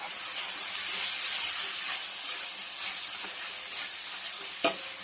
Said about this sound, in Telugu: ఒకసారి మొత్తం కలుపుకుందాము